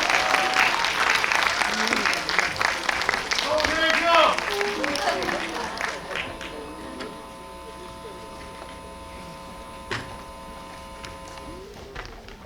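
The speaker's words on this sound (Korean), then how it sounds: "박수로 맞이해 주시기 바랍니다." A cinema audience applauds loudly for several seconds as guests come on stage, the clapping fading out into a quieter room with scattered faint sounds and a voice.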